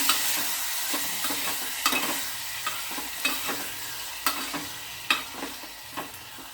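Tomatoes frying in a pan are stirred with a spoon, giving a string of scraping clicks and soft sizzle at an irregular rhythm, close and moderately loud, with no voices.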